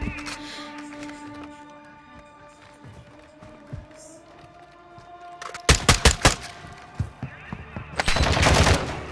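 Rapid bursts of automatic gunfire and loud single shots in Call of Duty: Modern Warfare II, building from scattered distant reports to sharp close volleys near the end, over background game ambience and occasional voices.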